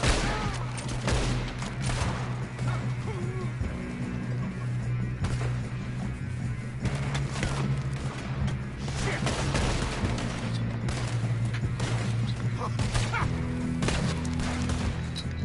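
Gunfire crackles through a train robbery in Red Dead Redemption 2, repeated sharp shots and bursts over a continuous rumbling background, with game voices and shouting mixed in.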